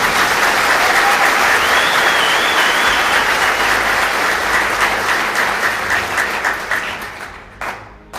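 An audience at a lecture on good and bad personality traits claps steadily and loudly for several seconds, and the sound thins out and fades toward the end.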